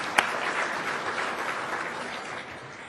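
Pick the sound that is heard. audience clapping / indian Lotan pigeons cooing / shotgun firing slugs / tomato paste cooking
audience clapping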